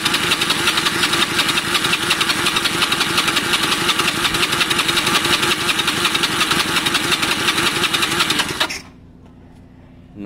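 A Honda CB250 motorcycle engine cranks steadily during a compression test, its rapid, even churning loud and close for about eight and a half seconds before it stops abruptly, leaving near silence.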